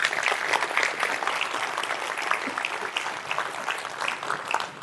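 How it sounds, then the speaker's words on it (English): An audience at a security conference talk breaks into steady applause, dense and even clapping from a room full of people, slightly distant, with no voices over it. "Can we have a round of applause for that?"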